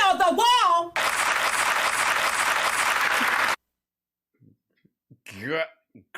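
A short loop of crowd applause plays as a steady wash of clapping for a few seconds, then cuts off abruptly; a voice talks before it and afterward.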